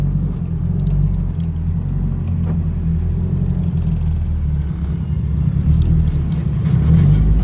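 Steady low car engine rumble from a drift car driving on the Circuit of the Americas race track, a continuous close droning hum at moderate pace with a slight rise in intensity toward the end.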